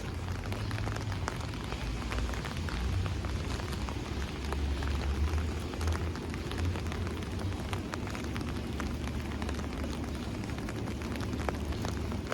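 Steady rain falls on pavement during a walk through Howard Beach and Lindenwood in Queens, a constant close hiss with low rumble and occasional droplet ticks and no talking.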